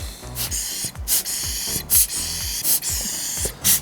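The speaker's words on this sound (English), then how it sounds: "Dust blower." A hand dust blower puffs air onto a Sony a7II-series camera screen in five or six short, sharp hissing bursts spaced about a second apart, close and fairly loud, with no talk.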